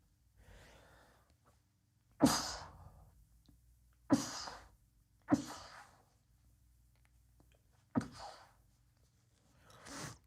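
A person sneezes and snorts several times in a row, close and sharp, with quiet breathing between bursts and no talking.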